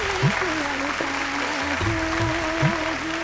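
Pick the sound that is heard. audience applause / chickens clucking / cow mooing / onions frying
audience applause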